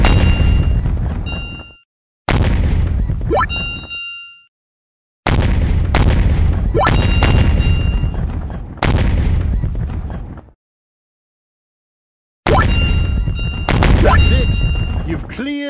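Meteors get hit in the Teach Your Monster to Read phonics game, a series of loud booming impacts with ringing chime tones, each burst separated by brief silences.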